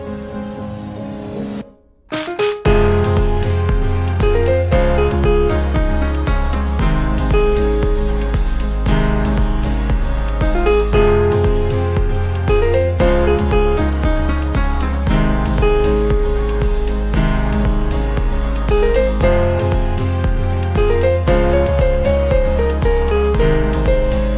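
A piano plays the chorus of a song with a steady bass line and repeating melodic phrases, full and loud after a brief quiet moment at the start.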